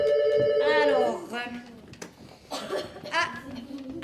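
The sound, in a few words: telephone ringing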